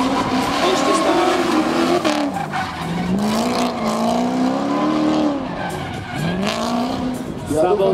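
A Mercedes race car charges through a hill climb race, its engine revving up and down through gear changes with tyre squeal, loud and continuous from start to finish.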